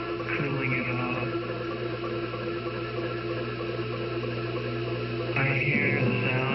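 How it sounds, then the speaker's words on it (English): A computer fan whirs steadily as it cools the machine, a continuous close hum with layered tonal drones, swelling slightly louder near the end. "I hear the sound of a computer. Its drives are making noise from its fan, cooling it off."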